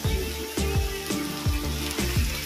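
Ginger-garlic paste fries in a pan for a Bengali boal fish-head curry. A soft sizzle sits under about five rhythmic scraping stir strokes, with no voices.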